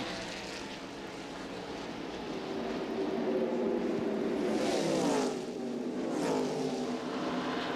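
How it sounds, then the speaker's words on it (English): Stock cars in a 1998 Busch Series race, the Diamond Hill Plywood 200, roar past on the racetrack, a steady engine drone with rising and falling pitch as cars sweep by at a distance, with no talk. "that didn't take long at all for Mark Martin to drive by and take the lead"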